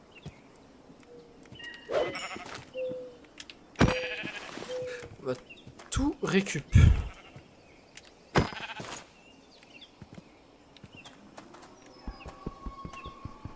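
Sheep bleat at scattered moments in a video game scene, several cries near and far mixed with other game noises while someone speaks over them.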